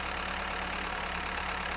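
Steady, continuous engine drone of a farm tractor in the video game Farmer's Life, a loud, even rumble with a low hum and no breaks or changes.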